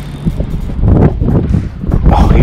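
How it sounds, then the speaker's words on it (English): Strong wind on Lake Arthur, Pennsylvania, buffets the microphone of someone fishing from a boat, a loud, constant low rumble with gusts swelling and easing. "Oh, you hear all that wind?"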